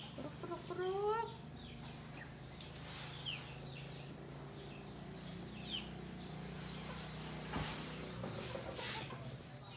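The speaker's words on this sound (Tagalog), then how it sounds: "Bisayang manok po." Native Bisaya chickens kept at a home in Davao cluck and call in a steady flock chorus, with scattered short squawks and a brief louder burst near the start, plus faint background noise throughout.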